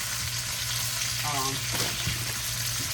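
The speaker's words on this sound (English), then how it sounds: "Some sliced garlic. You get that all sauteed." Sliced garlic sautés in a pan, a continuous broad sizzle with a brief voice heard faintly in the background.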